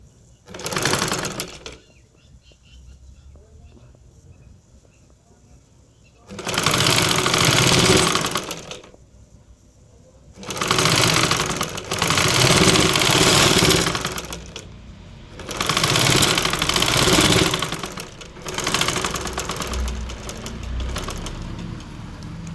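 A sewing machine stitches canvas for a thread-piped neck design, running loud and near in several sustained bursts of two to four seconds, separated by quieter pauses with handling sounds.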